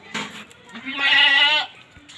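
A 13-14-day-old goat kid bleats once, a high wavering cry close by, preceded by a couple of soft shorter calls.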